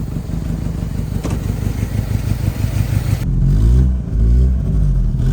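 A 2E engine in a Toyota Corolla EE90 small body with a clogged carburetor, running rough and misfiring, a loud close uneven idle with a stumbling beat that surges and dips in waves.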